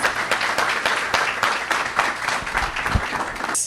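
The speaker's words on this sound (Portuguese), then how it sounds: "Palmas." Audience applause at a startup venture builder launch event, a dense, continuous burst of many hands clapping at close range with a brief louder accent near the end.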